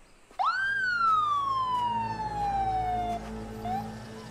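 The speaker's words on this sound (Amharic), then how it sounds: "ምን እየተካሄደ ነው? አምቡላንስ ነው።" An ambulance siren wails in a single rising then long slowly falling tone, loud and close, over a low background hum with no talk.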